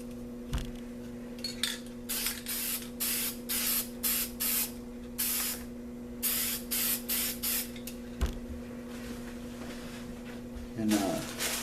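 Black spray paint hissing from an aerosol can onto spray art, in a run of short, loud, repeated bursts with brief gaps, over a steady low electrical hum.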